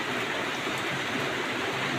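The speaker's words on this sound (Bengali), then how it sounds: "আল্লাহ পাক গত রাত থেকেই মশুলদারে থেমে থেমে বৃষ্টি দিচ্ছে" Torrential rain pours steadily in a dense, loud, unbroken hiss, close and without any voices.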